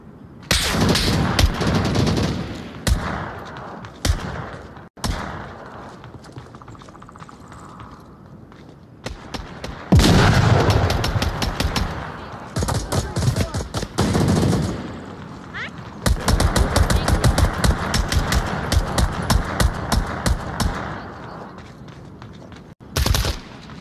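Heavy bursts of automatic gunfire in the VR shooter Onward, several loud sustained volleys broken by brief pauses and single sharp shots, with footsteps between them.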